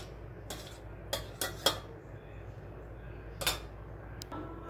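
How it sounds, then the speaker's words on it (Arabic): A spoon scrapes and clinks against a dish while strained potatoes for potato salad are stirred: a few sharp metallic taps spaced irregularly over quiet kitchen background. "هنقلب بقى كده التقليبه، نقلبها كويس اهو زي ما انتم شايفين كده"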